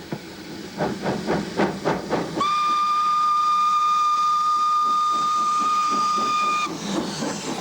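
Two SGS 0-6-0 steam locomotives hauling the Indus Express chuff in a rapid beat, then a loud, sustained steam whistle blows for about four seconds over a steady hiss before the chuffing returns.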